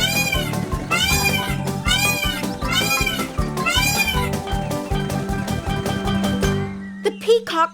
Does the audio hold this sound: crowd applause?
no